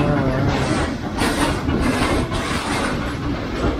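Trains passing near an outdoor urban spot, a loud, steady rumbling roar with surging whooshes, close by and continuous throughout.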